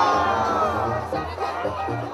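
A crowd at a coleadero in Zacatecas, Mexico, shouts and cheers in a sustained, dense roar of many voices with whoops rising and falling, fairly loud and continuous.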